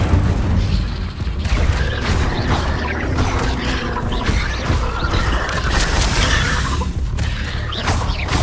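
A casting of the Incendio fire spell in the Hogwarts Legacy video game, heard as a steady, dense roar of whooshing bursts and booming impacts that runs loud and unbroken through the combat.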